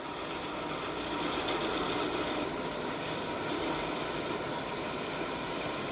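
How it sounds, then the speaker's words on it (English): A thin parting tool cuts into wood spinning on a lathe, giving a steady, quiet scraping hiss that holds evenly for several seconds. "I'm actually going to use a thin parting tool in here."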